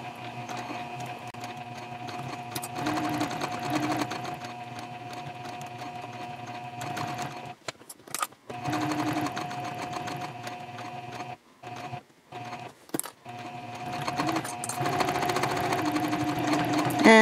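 A sewing machine stitches a messenger bag in steady motorized bursts that stop and restart several times, pausing briefly for pivots around curves before running on continuously, close and fairly loud with no talking.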